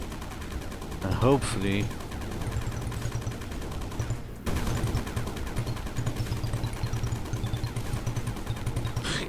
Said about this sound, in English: The only way to get this fluxite is just to shoot at angles.